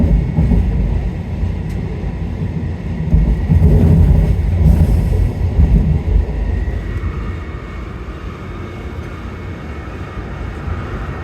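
Passengers ride the AirTrain JFK airport train: a steady low rumble of wheels and motors fills the cabin, swelling slightly midway, then settling into an even, continuous drone with no one talking.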